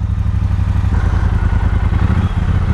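Loud, close Triumph Speedmaster motorcycle engine idling just after starting, a steady pulsing rumble with rhythmic low thumps and mechanical clatter, alone without talk.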